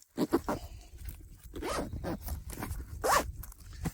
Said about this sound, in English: And then you can zip it up like so.